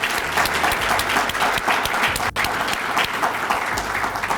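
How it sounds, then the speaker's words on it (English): An audience applauds at an evening celebration of a city health department's 150th anniversary, a dense, steady round of clapping filling the room from start to finish. "if we can give them a round of applause for this amazing event"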